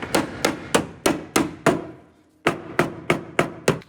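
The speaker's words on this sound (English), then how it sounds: "we're gonna just knock this in with a bit of a hammer" Hammer blows knocking sheet metal on a BMW E30 strut tower, about a dozen sharp, loud metallic strikes in a steady rhythm with a short pause midway.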